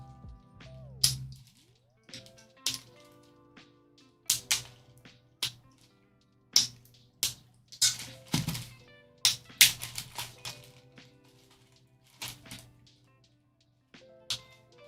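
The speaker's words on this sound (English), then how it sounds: "every time I cut these pieces, they go flying" Plastic 3D-printed models being trimmed with a cutter, heard as a string of sharp, irregular snaps and clicks, close and fairly quiet, with scattered pauses and no speech.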